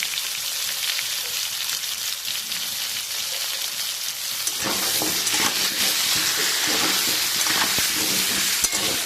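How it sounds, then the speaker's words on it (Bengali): Potatoes frying in oil with turmeric, in the same oil used for frying fish, give a steady dense sizzle that grows louder and busier halfway through, with occasional spattering pops. "আলুগুলো ভাজা হচ্ছে"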